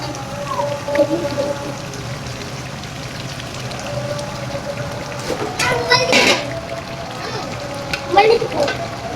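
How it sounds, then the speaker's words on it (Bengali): Chicken roast pieces frying in a thick spiced masala in a home kitchen, a continuous close sizzle with scattered bursts of crackle and utensil scrapes, plus faint background sounds. "মশলাগুলো ভালো মতো কষানো হয়ে গেছে তো এখন রোস্টগুলো দিয়ে দিতেছে"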